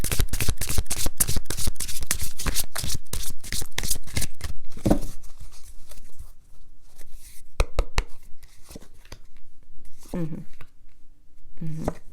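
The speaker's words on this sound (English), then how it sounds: "Let's pull some cards for you guys as far as outcome." Tarot cards shuffled close by in a fast, riffling rush that fades out partway, followed by a few softer handling sounds and brief card snaps.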